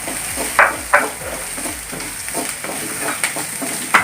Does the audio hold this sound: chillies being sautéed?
yes